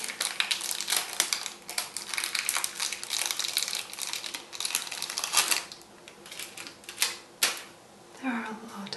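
Crinkly plastic packaging of cheap Ali Express nail art sets being handled and opened, giving dense close crackling and rustling with sharp crisp snaps throughout.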